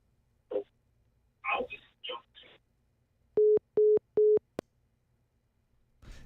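A telephone line busy signal sounds as three sharp, evenly spaced beeps, loud and clean after a few short spoken phrases.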